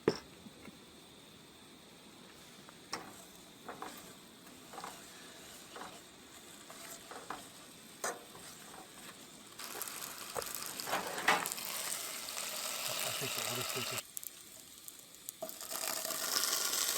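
Seasoned food frying in a pan at a Pine Grove Furnace State Park campsite, a faint steady sizzle punctuated by soft scraping and clinks as pieces are turned, growing louder and hissier toward the end.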